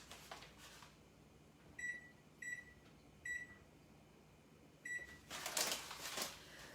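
Four short electronic beeps from a kitchen timer being set while summer rolls are prepared, evenly spaced and fairly soft, followed by a burst of rustling or running-water noise.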